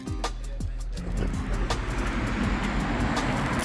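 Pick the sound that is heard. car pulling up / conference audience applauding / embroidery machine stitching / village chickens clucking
car pulling up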